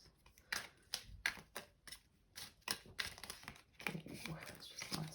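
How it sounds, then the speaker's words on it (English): Tarot cards shuffled loosely by hand during a reading: a quiet, close run of irregular papery riffles and flicks in uneven bursts, with no talking. "it's just nice sloppy shuffling"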